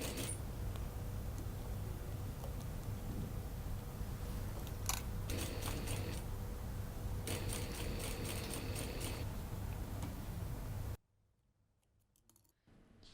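A sewing machine stitches a gusset on a coat with dolman sleeves, in two short bursts of rapid, quiet mechanical clicking over a faint steady hum. A near-silent stretch follows at the end.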